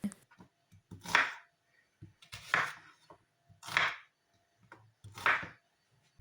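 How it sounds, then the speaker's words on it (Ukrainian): An onion cut into four pieces with a knife on a board, four separate firm chops spaced about a second apart, close and clear with quiet handling sounds between. "Цибулю розрізаю на 4 частини."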